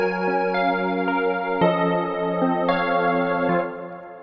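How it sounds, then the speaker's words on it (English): Bright disco and indie dance synth keys from a Massive preset, sustained harmonic chords changing every half second or so, smooth and chorused, playing alone and steady before fading slightly at the end. "And that's pretty much finished key sound."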